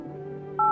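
Phone keypad dial tones from the game No I'm Not a Human sound over a low steady hum, ending in a bright, loud tone near the end.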